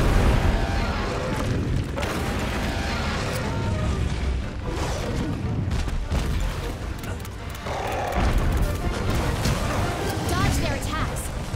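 A heavy bowgun fires in Monster Hunter: World, sending out repeated deep, booming blasts with impact rumbles and mechanical clatter, mixed with other game sounds over the whole stretch.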